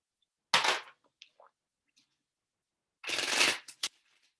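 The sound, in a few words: shuffling tarot cards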